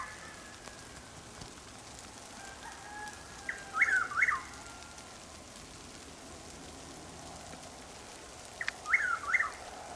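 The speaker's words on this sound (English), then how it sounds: "I think the Chuck Will's widow has finished its call." Chuck-will's-widow giving two short whistled call phrases from moderate distance, around four seconds and again near nine seconds, over steady light rain hiss.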